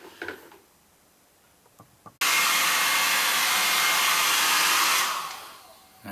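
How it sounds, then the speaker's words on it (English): A hair dryer switches on abruptly after a few faint clicks and blows a loud, steady broadband rush to dry a wet carbon fibre keyboard, then winds down near the end. "you can either help it along with a hairdryer"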